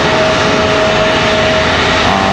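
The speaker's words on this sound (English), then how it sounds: "We also got JetBlue 404 on final" JetBlue flight 404, a jet airliner from San Juan, Puerto Rico, on final approach to Raleigh-Durham International Airport, gives off a loud, steady engine roar with a thin whine held throughout, close and unbroken.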